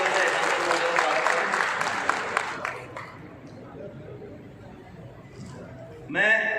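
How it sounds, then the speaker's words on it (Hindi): Applause welcoming a member of parliament at a zonal meeting, a burst of clapping from a seated crowd that thins and fades after a few seconds into quiet murmur, then a voice begins speaking. "मैं अनुरोध करूँगा सबसे पहले जोरदार तालियों से सांसद महोदय का स्वागत"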